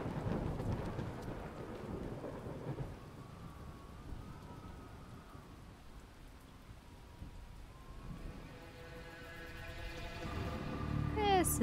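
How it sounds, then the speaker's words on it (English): Rain pours steadily with a low rumble of thunder in the Jenny LeClue video game, the storm noise sustained and moderately loud throughout, with no talk. "Guy out in a thunderstorm during curfew with a briefcase."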